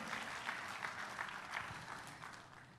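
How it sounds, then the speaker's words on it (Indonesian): A church congregation claps together in a sustained burst of applause that fades slightly toward the end, heard at a distance in a large worship hall. "tepuk tangannya yang paling mantap buat Yesus Tuhan kita"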